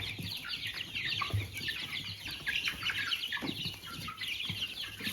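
A large flock of chicks gathered around cup drinkers in a brooder, continuous high peeping and chirping from many birds at once, fairly faint and steady with no talk over it.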